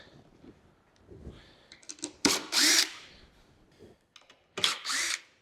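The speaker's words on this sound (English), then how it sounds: "Let's just go ahead and pull some more of these screws out" A power drill backs screws out of a wooden crate in several short bursts, each a loud whirring spin, with quieter clicks and handling noises in between.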